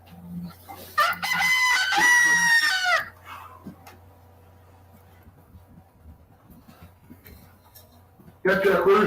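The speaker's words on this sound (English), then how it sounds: "Catch that rooster." A rooster crow used as a phone alarm rings out loud and close, a long warbling call lasting a couple of seconds, followed by quiet background hum and a second burst starting near the end.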